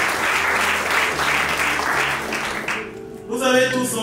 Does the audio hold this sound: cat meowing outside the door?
no